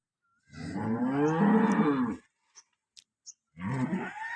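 A cow gives one long, loud, low moo lasting well over a second, followed by a few small clicks and then the start of another moo.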